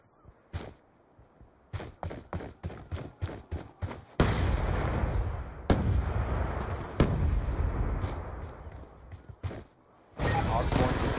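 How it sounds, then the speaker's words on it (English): A Hellstorm missile strike rains down during a Hardpoint match in Call of Duty, opening with a quick series of sharp blasts and then rolling into heavy, sustained explosions that rumble on through the rest, with game voices over it. "Friendly Hellstorm missile inbound."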